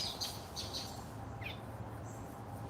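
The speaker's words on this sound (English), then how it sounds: "Listen to all the birds." Birds call outdoors in a quiet, faint mix of squawks and brief chirps, scattered over a steady low background hum.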